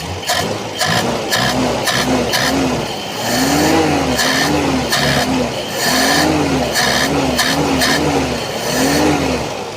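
A Toyota Corolla DX with a carburetor engine revs hard and repeatedly, loud and close, each sudden throttle blip rising and falling in quick succession.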